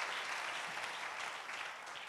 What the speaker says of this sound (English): A big hand clap to Jesus.